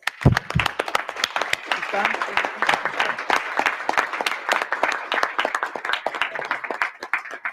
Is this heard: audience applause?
yes